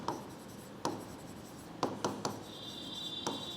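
Pen or marker writing on paper while an adjustment table for two partners' accounts is drawn up, heard as a few sharp scratchy strokes and taps at close range with no talking.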